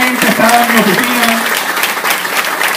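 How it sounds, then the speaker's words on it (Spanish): Crowd at a public event applauds the mayor, steady clapping heard with a voice speaking over it at the start. "Pido un aplauso para el alcalde"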